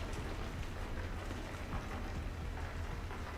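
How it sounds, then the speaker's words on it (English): Water dripping and leaking from pipes inside an old building in a video game, a soft, steady patter of drops at low level, with no talk. "Where is this water even coming from?"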